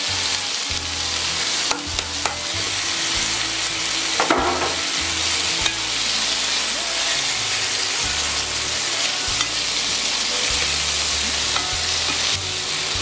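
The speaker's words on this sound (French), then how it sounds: "Toujours bien de faire griller un peu les aromates." Aromatics frying for a veal and pumpkin sauté, a steady close sizzle in the pan broken by repeated scrapes and knocks of stirring.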